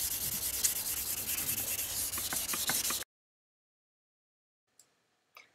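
Steady, close hand sanding of a BMW E30 headlight glass with a rough, rasping texture for about three seconds, then near silence with a couple of faint taps.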